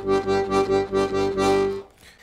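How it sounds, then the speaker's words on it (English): Piano accordion bellows shake on a G bass note: a rapid, steady pulsing of the held tone from quick opening and closing of the bellows, loud and close, ending in a short release. "if we play the bellows shake just using a G bass note,"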